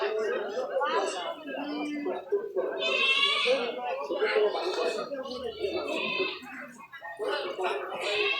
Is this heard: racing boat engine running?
no